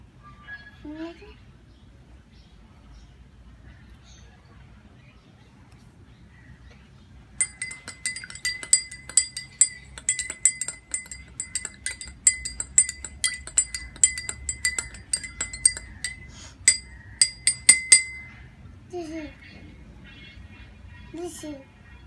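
A spoon stirring sugar into lemon juice in a glass makes quick, bright clinking taps against the glass in a steady run lasting about ten seconds, close by, with voices talking before and after.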